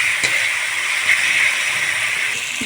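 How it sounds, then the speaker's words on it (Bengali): Garlic paste frying in oil in a pan gives a continuous bright sizzle and hiss, steady and close, with a faint clink of a utensil early on. "রসুনটা আমি হালকা করে ভেজে নেব যাতে কাঁচা গন্ধটা কেটে যায়।"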